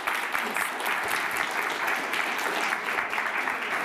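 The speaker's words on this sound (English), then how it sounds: "Round of applause." An audience at a talk applauds steadily, a dense, continuous patter of many hands clapping that holds at the same level throughout.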